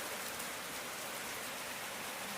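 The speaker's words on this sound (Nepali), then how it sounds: "मुसुलधारे पानी आयो" Dense, steady rain pours down in an unbroken hiss, loud and close, with no voices.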